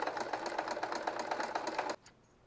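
A sewing machine stitches fabric along a quilt border in a fast, steady rattle of needle strokes, then stops abruptly near the end, leaving quiet room tone.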